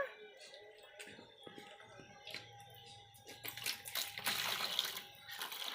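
Water splashing and trickling nearby as a child washes a bicycle, with clicks and taps of handling, growing louder and more spattering toward the end.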